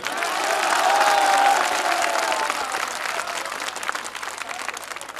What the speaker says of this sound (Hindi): इसे कहते हैं ताली, ये अपने आप बजती है।